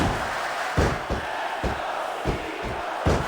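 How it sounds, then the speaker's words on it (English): A crowd chants in WWE SmackDown vs Raw 2006, loud arena voices swelling with a regular pulsing beat of stomps or claps roughly twice a second. "Sounds like this crowd's got something on their minds, King."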